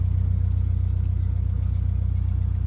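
A narrowboat engine runs steadily on the Oxford canal, a loud low diesel throb with a regular chugging pulse and no change in pace.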